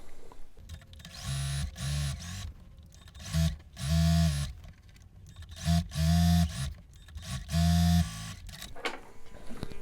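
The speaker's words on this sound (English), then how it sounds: "let's go back to the sewing machine and sew them together" A sewing machine stitching quilt fabric runs in repeated bursts, a rapid mechanical whirring and clatter that starts and stops several times, close by.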